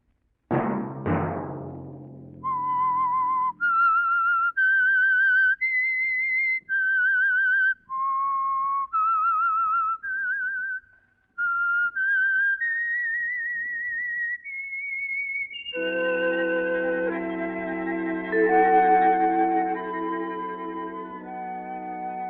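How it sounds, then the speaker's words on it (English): A lone human whistles the theme of The Whistler radio show, a clear melody of held and sliding notes, then an orchestra joins for the final stretch. "Let that whistle be your signal for the Signal Oil program, The Whistler"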